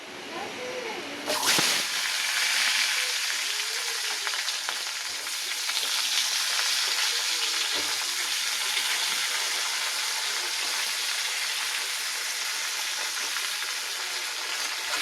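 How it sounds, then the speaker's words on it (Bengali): Vegetables drop into hot oil that already holds cumin seeds and set off a sudden loud burst of sizzling, which then settles into a dense, steady frying hiss, close up, with a few faint knocks. "কড়াতে তেলও গরম হয়ে গেছে তেলের মধ্যে দিয়ে দিয়েছি একটু জিরে ফোড়ন এবার এই সবজিগুলো দিয়ে দেবো"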